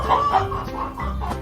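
Chickens cluck in a short burst of several rapid, close calls, nasal and choppy, with a faint farmyard background and no speech.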